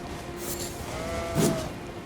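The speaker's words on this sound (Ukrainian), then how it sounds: "Вівці тікають" A sheep in the video game Elden Ring bleats once, brief and moderately clear, over a low steady background hum.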